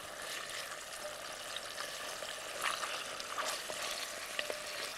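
Chicken breasts gently sizzle and crackle in a frying pan, quiet and steady with small pops, no voices.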